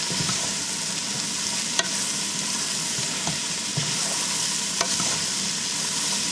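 Shrimp and vegetables for a low-carb Nicaraguan-style chop suey fry in a full pan with a steady, close, dense sizzle, broken by a couple of sharp clicks from stirring.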